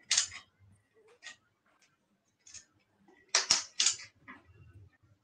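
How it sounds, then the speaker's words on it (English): A large-format camera shutter being cocked and fired, heard as scattered small mechanical clicks and ticks, faint and close, with a sharper cluster of clicks in the middle and no talk over them. "So shutter is cocked."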